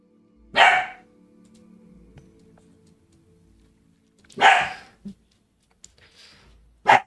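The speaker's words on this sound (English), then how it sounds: "the dogs are barking" Dogs bark indoors in a few short, loud bursts separated by quiet stretches, with a final sharp bark at the end and no voices.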